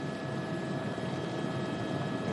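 A Polícia Civil de São Paulo helicopter lands at Jacarepaguá airport in Rio: a steady, dense rotor and turbine roar, continuous and fairly close for the whole stretch, with no speech.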